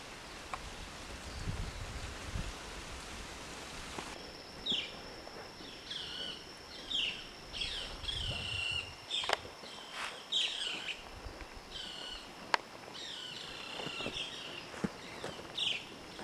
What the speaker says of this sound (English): And that's a bird.